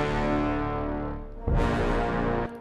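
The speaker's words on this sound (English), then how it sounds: "the epic horns. If we just listen to them, they sound like this." Epic horns from the Project Sam free orchestra library playing a sustained, brassy swell, cut off by a second louder, brighter blast midway that holds briefly before ending abruptly.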